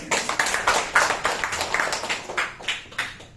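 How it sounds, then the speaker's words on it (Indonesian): Seminar audience at a network marketing event claps in a quick, rhythmic unison beat, loud and close, with crowd noise filling the room between claps. "Tepuk tangan untuk kita."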